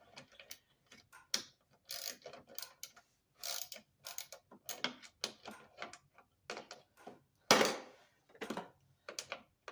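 A small socket wrench with a 5/16 socket ratchets bolts off a 6.5 hp Yard Machines lawn mower, giving quick bursts of clicking pawl ticks in irregular runs with short pauses, close and fairly quiet.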